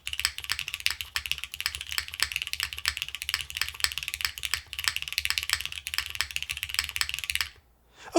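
A Sonnet 2026 mechanical keyboard typed on quickly and steadily, with dense close key clicks and clacks that sound somewhat plasticky and stop abruptly near the end, with no talk.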